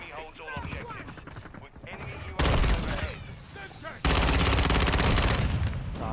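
Rapid automatic gunfire rattles in a first-person shooter game match on a small map, loud dense bursts coming in two sustained stretches, with a player talking excitedly over the earlier part.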